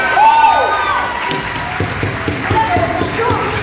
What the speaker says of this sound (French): Bravo, on peut applaudir.